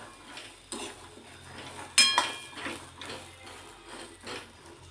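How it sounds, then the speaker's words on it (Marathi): Fresh green chickpeas are roasting with chillies in a pan. A quiet background sizzle runs under several sharp clinks and scrapes of a utensil against the pan, with one louder knock near the middle and no talking. "आणि या मिरच्या सोबत आता हे भाजून घेणार आहोत आपण।"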